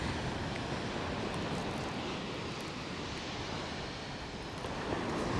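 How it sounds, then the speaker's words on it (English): A massive crosswind sweeps across Chesil Beach, a constant loud rushing roar that buffets the microphone, with surf blending into the steady noise and no voices. "There's definitely a massive crosswind"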